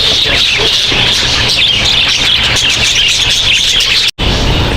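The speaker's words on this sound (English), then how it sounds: "these are very, very cute birds" Birds chirping and tweeting at a zoo, a dense, loud, continuous chorus of calls that fills the scene, with one brief dropout near the end.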